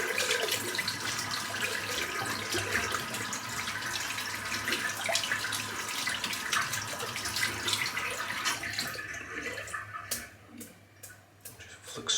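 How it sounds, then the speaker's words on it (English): Tap water runs steadily to wet a badger-hair shaving brush, a continuous close splashing hiss that thins near the end into scattered drips and small clicks. "I'm just going to get this a little bit wet and just have a look at it with some water in it."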